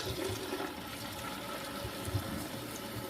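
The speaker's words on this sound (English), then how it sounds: "We'll turn our water back on." Water runs and trickles steadily into a toilet tank refilling after a slow-fill repair, a constant hollow rush with faint gurgles, fairly quiet and close.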